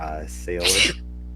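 A single sharp sneeze close by, a short breathy burst that quickly trails off into quiet.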